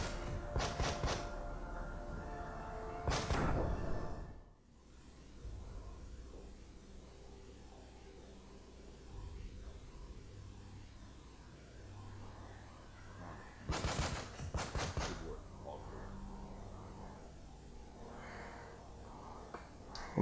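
Breach charge and gunfire in the tactical video game Breach & Clear: loud bursts of gunfire near the start and again around the middle, with quieter game sounds between and a voice talking over parts of it.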